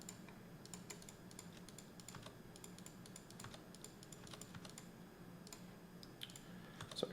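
Quick bursts of typing on a computer keyboard while deleting text, light rapid key clicks in uneven clusters over a quiet room hum, fairly close and soft.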